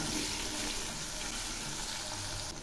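Chopped onion, potato pieces and tomato fry in a pan for a light rohu fish curry, giving a steady, close sizzle that runs throughout, with stirring mixed in and no talking.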